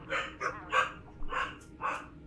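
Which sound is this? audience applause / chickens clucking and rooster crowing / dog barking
dog barking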